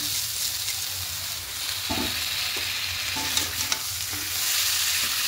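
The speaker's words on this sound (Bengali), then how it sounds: "চাল আর ডালটাকে একটু ভালো করে মশলার সঙ্গে কষিয়ে নেব" Washed atap rice and dal are stirred and sautéed with spices in a pan for vegetarian khichuri, giving a continuous soft sizzle with occasional scraping strokes of a spoon, close and steady.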